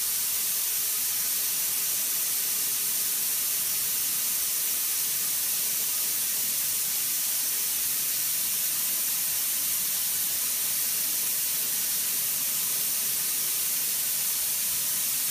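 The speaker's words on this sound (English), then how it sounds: "It'll be best if I just dump the pressure at the bottom of the compressor." Compressed air hisses steadily and loudly out of the drain at the bottom of a 200 litre Hydrovane 504 compressor tank, a continuous broadband rush that holds unchanged from start to finish with no talk.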